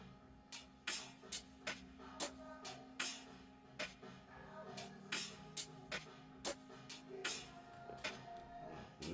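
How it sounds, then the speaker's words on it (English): An amapiano beat percussion loop plays quietly. Crisp, clicky hits come in a steady, syncopated pattern over a low, soft bed. "I insert a percussion loop which sounds like this"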